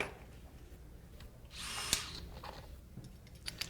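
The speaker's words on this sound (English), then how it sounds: "I will have a drill bit in just a second" A power drill whirs in one short burst of under a second on a building site while a ceiling support is being built, with faint clicks and handling noise before and after it.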